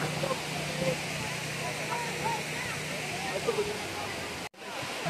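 Hinulugang Taktak waterfall pours with a steady, full rushing roar at a crowded spot, while faint voices blend into the noise and a brief dropout comes near the end.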